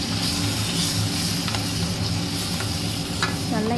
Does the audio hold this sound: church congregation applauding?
no